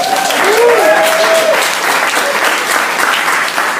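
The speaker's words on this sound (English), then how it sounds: "I think that deserves applause right there." Loud, sustained audience applause at a 2014 GLAA awards reception, a dense wash of clapping that fills the room from start to finish, with a brief high cheer or whistle near the start.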